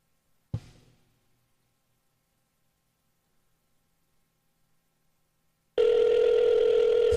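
A single sharp click of a phone handset, then near silence for several seconds, and finally a loud, steady telephone tone sets in when a call back is dialed.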